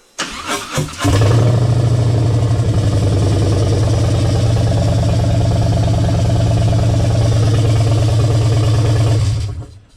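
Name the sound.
Harley Road King Special engine idling, Screamin Eagle intake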